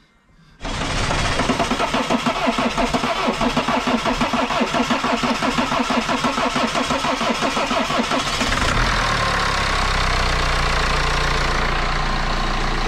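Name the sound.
BMW N47 diesel engine starting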